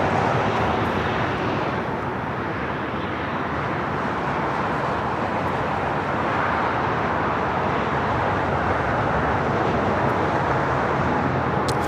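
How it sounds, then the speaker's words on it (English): A United Airlines Boeing 757-300 bound for Denver takes off at LAX, a steady broad engine roar holding loud and unbroken throughout. "Next takeoff is United Airlines flight 493 heading to Denver in a 757-300"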